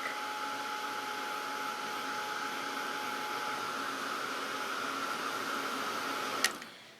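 A hair dryer blows steadily and fairly close at a constant pitch, drying hair, then cuts off abruptly near the end with a short click.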